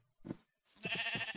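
Minecraft sheep bleat twice, quiet and close: a short bleat, then a longer wavering one after a brief pause.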